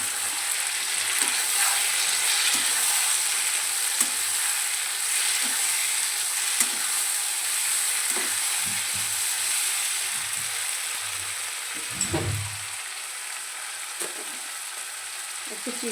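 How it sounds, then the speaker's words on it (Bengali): Potato and vegetable-stalk curry with mustard paste sizzles steadily in a pan while a spoon scrapes and stirs in short, repeated strokes, with a louder clatter near the end. "এবার আমি সর্ষে দিয়ে একটু নাড়িয়ে চালিয়ে তারপরে নামিয়ে নেব"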